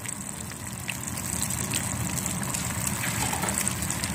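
Chicken and lentil shami kabab tikkis, dipped in egg, fry in hot oil with a steady, close, moderately quiet sizzle and bubbling throughout, and no talking.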